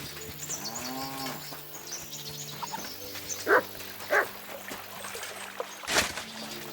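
Dog barks in the medieval video game Kingdom Come: Deliverance II, with a cow lowing early on, then a few sharp barks spaced apart and a louder final bark, amid ambient game music and no talk.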